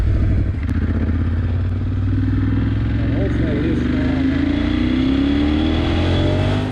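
A 2020 Ducati Scrambler 1100 engine drones steadily and climbs in pitch as the motorcycle accelerates on the road, loud and continuous with wind buffeting, recorded through an on-board camera microphone.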